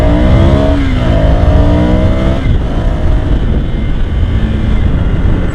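A Ducati Scrambler motorcycle accelerates hard in first gear, its engine note climbing loudly up close under heavy wind rush, then settling into a rougher roar partway through.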